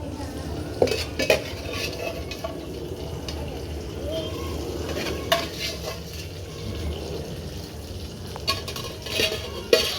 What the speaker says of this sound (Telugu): ఈ చికెన్ కూడా వేయించుకుందాం ఫ్రెండ్స్, బాగా ఎర్రగా.